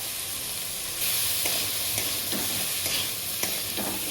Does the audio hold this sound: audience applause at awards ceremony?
no